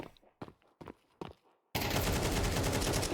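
Rapid M4A1-S rifle fire in Counter-Strike, a loud continuous burst of suppressed automatic shots after a few soft footstep-like clicks, filling the second half without pause.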